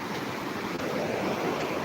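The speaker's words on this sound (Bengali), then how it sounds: "পানির শব্দ আপনারা দেখতে পাচ্ছেন" Steady broadband rushing of water, loud and continuous like a fast-flowing river, with no voices.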